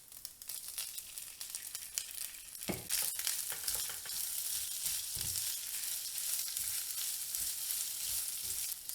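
Cooked rice frying in a pan for Japanese yakimeshi, a constant soft sizzle with scattered crackles and a few louder stirring scrapes and tosses partway through, no talking.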